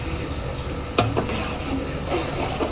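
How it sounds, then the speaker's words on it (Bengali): Chicken biryani meat being stirred in hot oil, a steady low sizzle with a couple of sharp scrapes near the one-second mark, close and continuous with no talking. "নাড়া দিয়ে দিলাম।"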